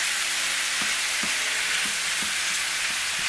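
Shrimp sizzle steadily in a hot pan for butter garlic Tuscan shrimp, a loud continuous frying hiss with a few soft stirring knocks spaced through it.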